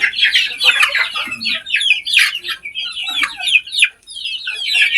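Chickens and young chicks cluck and peep in a busy, close chorus, with overlapping short calls rising and falling in bursts and a brief lull near the end.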